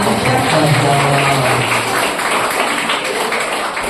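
An audience at a school motivation training session gives steady, fairly loud applause that carries on without a break, with a faint tone hanging underneath at the start.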